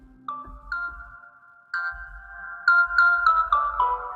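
Trap-style bell synth patch from a Kontakt sample bank plays a short melodic sequence of bright, ringing notes with a low bass thump underneath, sparse at first and then quicker, clear and alone.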